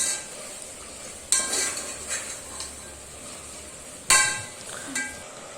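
Spoon stirring ginger garlic paste in a pan, with soft scraping and a couple of sharp metallic clinks against the pan over a faint background hiss.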